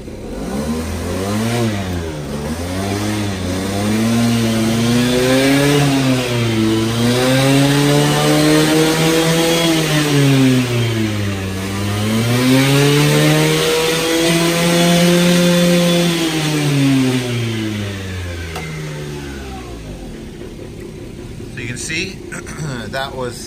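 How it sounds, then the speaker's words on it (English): Aprilia motorcycle engine revving hard, pitch rising and falling in repeated sweeps up to the rev limiter, loud and close, then settling back toward idle near the end. "And show you where this one ends up with the rev limiter."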